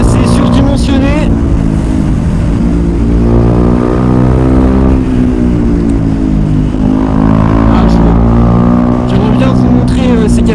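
A Husqvarna Vitpilen 401 motorcycle engine drones loud and close while riding, its pitch rising and falling through revs, with a rider's voice talking over it much of the time.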